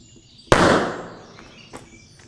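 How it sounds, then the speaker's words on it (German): A plaster-plug firecracker goes off under a carpet in a single sharp, loud bang that decays over about a second, followed by faint rustling debris. "bei so Gipsstopfenböllern muss man echt aufpassen"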